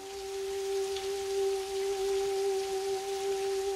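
Rain falls steadily in a scene from the film The Double Life of Véronique, a soft, even hiss beneath a long, clear, sustained sung note.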